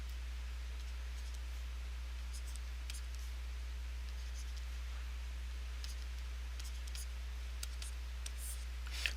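Pen strokes of someone handwriting a math matrix, a series of faint scratchy marks and taps over a steady low electrical hum, with no talking.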